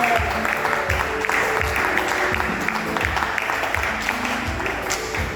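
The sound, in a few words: church congregation applauding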